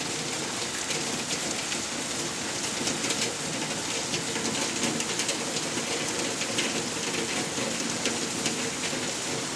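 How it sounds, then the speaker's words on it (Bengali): Heavy pouring rain falls steadily at night near a river, a dense, even roar of drops on surfaces that continues without pause and with no voices. "মুষলধারে বৃষ্টি।"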